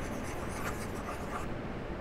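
A pencil presses and rubs across soft Model Magic clay to flatten an ornament, giving a steady close scraping friction sound for about two seconds with no voices.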